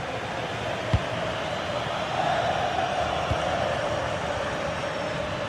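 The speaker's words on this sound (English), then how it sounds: "Well, just listen to this crowd." A broad, steady roar from a large stadium crowd in a football video game fills the whole stretch, a dense wash of cheering with a couple of faint thuds, and no clear talk over it.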